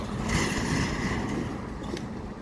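Traffic noise from cars driving along a street in a historic old town district, a steady broadband rumble with passing vehicles swelling and fading, fairly close and continuous.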